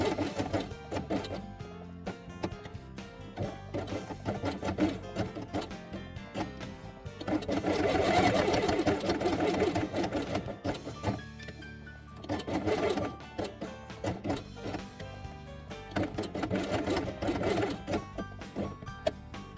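A close sewing machine stitches along the edge of dark gray felt pieces for a felt dollhouse garage, a steady rapid mechanical clatter running continuously with brief slowdowns and restarts.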